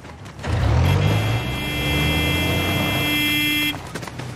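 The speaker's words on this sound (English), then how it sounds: "Who the fuck's honking at me?" A vehicle horn honks in Battlefield 3 Rush multiplayer: a loud, continuous blare held for about three seconds over engine rumble, then cut off abruptly.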